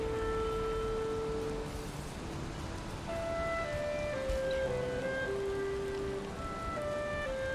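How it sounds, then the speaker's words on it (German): Steady rain falls in the Valheim game world, a constant hissing wash of drops spread across the whole clip, moderately loud and unbroken, with soft tonal in-game music notes drifting over it and no one talking. "Man hat ja wirklich mehr Regen, Gewitter, Sturm als Sonnenschein."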